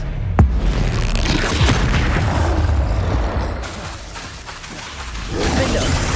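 A spell cast in Hogwarts Legacy lands with a sharp booming burst and whooshing rush, followed by a rumbling magical combat din that dips briefly and swells again.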